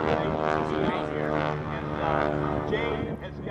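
A propeller airplane at the Dayton airshow drones steadily overhead with a loud, buzzing, harmonic engine tone throughout, alone with no talk.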